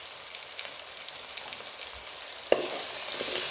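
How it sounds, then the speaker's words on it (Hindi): Whole red chillies, turmeric, coriander powder and red chilli powder fry in a pan with a soft, steady sizzle, and a single clatter of a utensil rings out partway through. "और इसी तरीके से भुनाई कर लेंगे।"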